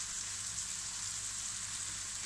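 Spices fry in a pan for a bulgur dish, giving a steady, even sizzle with no talk over it.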